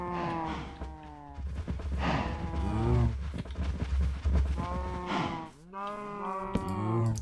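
Cattle mooing in the video game Minecraft on a farm, several long lowing calls repeating one after another, loud and close, with no talk over them.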